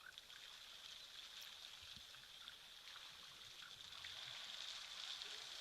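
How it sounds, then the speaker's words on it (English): Water trickles and flows steadily at a wildlife waterhole, a soft, even, continuous burble that holds at a low, distant level and swells slightly toward the end, with no talk. "Oh, listen to that water."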